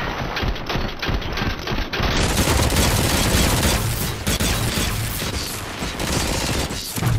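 Rapid automatic gunfire in a video game, a loud continuous fusillade of overlapping shots running the whole length with steady intensity and a few heavier thumps.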